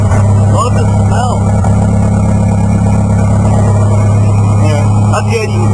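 A heavy diesel engine of an International 434 tractor idles loudly and close, a steady low rumble with a droning hum, while people talk faintly underneath.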